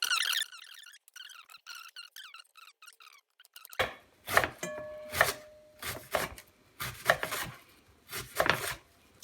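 Cabbage is sliced finely with a knife for sauerkraut, producing a run of crisp, rhythmic chopping strokes close by after a quieter stretch of light squeaky rubbing.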